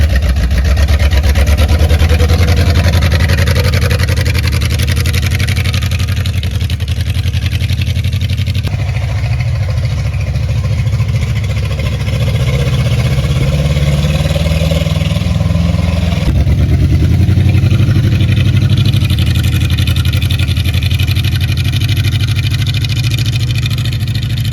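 A 1964 Chevy K10 truck engine runs steadily on a test drive, a loud continuous low rumble with road and wind noise throughout, the pitch shifting slightly as it accelerates and shifts.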